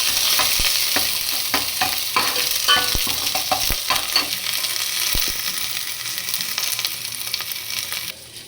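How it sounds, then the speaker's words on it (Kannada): Whole spices crackle and sizzle loudly in hot oil as tempering for sambar, under steady stirring with sharp scrape-like ticks; the sizzle stays continuous throughout and drops away near the end. No one talks. "ಇದು ಸಾಂಬಾರಿಗೆ ಒಗ್ಗರಣೆ ಹಾಕ್ತಾಯಿದ್ದೀನಿ"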